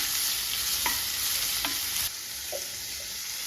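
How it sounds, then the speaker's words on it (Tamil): Onions sautéing in oil in a pan for tomato rice, a steady close sizzle with a few soft clicks and scrapes of a stirring spoon, no voices. "வெங்காயம் கொஞ்சம் நல்லா வதங்கட்டும்."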